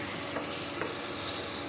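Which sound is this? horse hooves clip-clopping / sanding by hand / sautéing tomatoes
sautéing tomatoes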